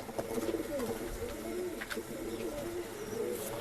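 Pigeons cooing at a pigeon seller's loft in Bangalore, with repeated soft, throaty coos overlapping close by against faint background noise and a few brief higher chirps.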